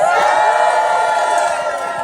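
Large outdoor rally crowd of writers' supporters cheering and whooping continuously, loud and dense, at a union contract rally in a New York City park.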